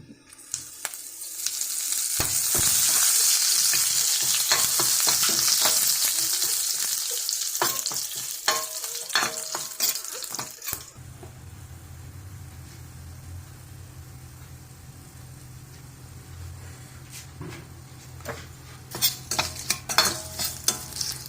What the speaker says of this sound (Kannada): ಇವಾಗ ಕರಿಬೇವಿನ ಎಲೆ ಹಾಕ್ಕೊಳ್ತಾ ಇದ್ದೀವಿ.